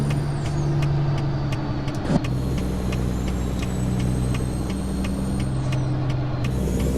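Truck engine in American Truck Simulator, a steady loud drone with low rumble as the rig pulls out onto the main road, with a brief hiss-like burst partway through and a faint tonal whine above.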